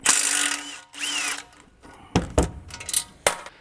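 A ratchet works loose the front strut bolt, with a 16 mm head and 18 mm nut, on a 2018-2024 BMW G01 X3. Close, loud bursts of clicking pawl come in short runs, separated by metallic clinks and pauses.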